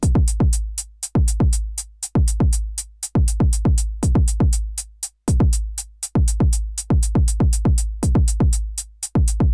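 A punchy Pocket Operator drum machine kick drum thumps in a steady, repeating pattern, loud and booming, with some hits doubled up in quick pairs.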